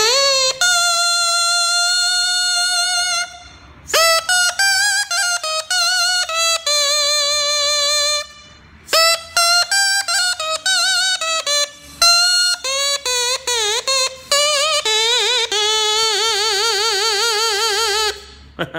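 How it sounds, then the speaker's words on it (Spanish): A McDonald's drinking straw blown as a reed instrument gives loud, buzzy, nasal squealing tones in short phrases with jumping pitches, ending in a wavering vibrato note, played alone. "vamos esta vez con el pajillófono."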